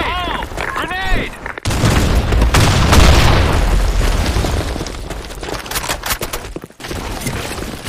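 A grenade detonates in the Sand Storm II map of an online shooter: a loud, close boom rolls out into a long rumbling blast and a rattle of debris, with gunfire-like cracks and a shouted voice just before it.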